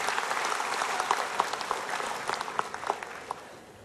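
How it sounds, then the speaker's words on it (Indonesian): An audience at the 2017 UMNO general assembly applauds in a steady mass of clapping that swells slightly, with a few sharper claps standing out nearby. "kita berikan tepukan kepada mereka semua"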